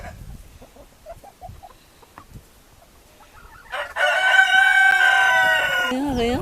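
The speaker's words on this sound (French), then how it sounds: "incidemment, elles vont rencontrer les autres poules" Hens crowd and cluck close by in an unfamiliar pen as they meet other hens, faint scattered clucks at first, then a loud, dense burst of overlapping calls and a crow-like cry for the last few seconds.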